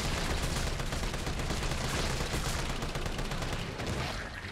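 Dense, rapid gunfire fills a Resident Evil 3 Remake gameplay moment, a loud unbroken barrage of overlapping shots and bursts with no talk over it.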